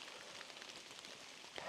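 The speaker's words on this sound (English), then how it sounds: "It's very light drizzle." Very light drizzle falls on a forested trail in December, a faint, soft patter of scattered drops with a brief louder rustle near the end.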